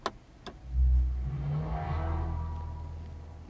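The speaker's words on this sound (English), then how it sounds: "when you turn the car on, it makes an AMG specific noise" Mercedes-AMG EQS 53 electric car plays its synthetic start-up sound after two sharp clicks, a rising hum that swells and then holds steady, alone and fairly quiet.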